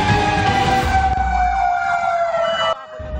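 A fire truck siren wails loudly and steadily with a rising-and-falling tone at a house fire in Barangay Tandang Sora, Quezon City, then cuts off abruptly near the end, leaving a quieter background.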